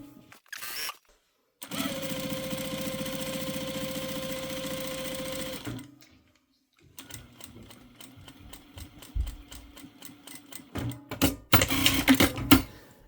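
A sewing machine hems fabric in bursts, a long even run of rapid stitching, a pause, then a rougher stretch of clattering stitches with intermittent clicks and handling noise.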